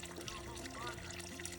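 Spring water trickling at a trail shelter, a soft continuous babble at close range, faint and steady.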